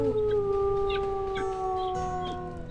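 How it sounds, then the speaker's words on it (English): Wolf howl from the WolfQuest video game: a long, steady, tonal howl sustained for nearly three seconds, loud and close, with faint game ambience beneath and no talk. "you have a gorgeous howl. I finally got to hear it."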